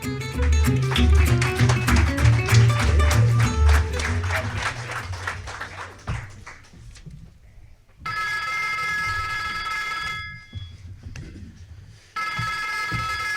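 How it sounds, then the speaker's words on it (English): An old-fashioned telephone bell rings in long bursts with pauses between, following a stretch of applause and crowd noise, as the opening of a Nero Wolfe radio drama. "the ringing of that phone bell brings you mystery, adventure"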